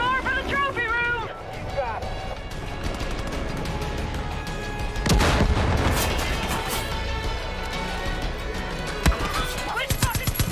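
Gunfire and explosive booms from the video game Far Cry 5, loud bursts and sharp cracks layered over game music and effects, with a voice talking over the action.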